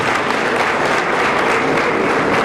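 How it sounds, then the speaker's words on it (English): An audience gives steady, dense applause at a public gathering, a continuous wash of many hands clapping, fairly loud and unbroken, with no speech over it. "I think we deserve a round of applause"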